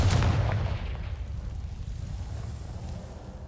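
A single Confringo fire blast spell from Hogwarts Legacy bursts loudly at the start and then leaves a deep rumbling boom that fades slowly over a few seconds, heard alone.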